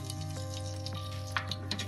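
Mustard seeds crackle and splutter in hot oil in a pan at a low level, sharp little pops scattered over a soft continuous sizzle.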